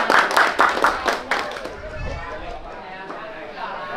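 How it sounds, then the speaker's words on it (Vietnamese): Wedding guests at a Vietnamese betrothal ceremony clap in a loud, dense burst for about a second and a half, then the applause thins and fades under room noise and a voice. "vỗ tay lớn lên."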